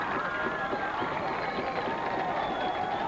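Big home crowd at a Clarksdale high school football game against South Panola, on their feet in a dense, steady roar of voices, sustained and fairly loud throughout.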